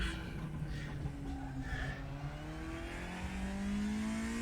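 A 1992 DTM BMW M3 touring car engine in the RaceRoom racing sim revs and climbs in pitch, a steady loud mechanical drone rising toward the end, with no talking.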